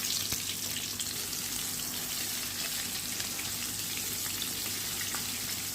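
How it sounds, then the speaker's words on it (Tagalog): Flour-dredged half chicken pieces fry in hot oil, giving a steady, dense sizzle and crackle that runs unbroken and fairly loud throughout, with a faint low hum beneath and no talking. "linagay ko siya sa mainit na mantika para maging crispy siya"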